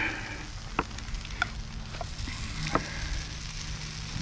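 Bacon and potato sizzling in a pan at a solo truck campsite, a quiet steady hiss with a few soft pops and small clinks.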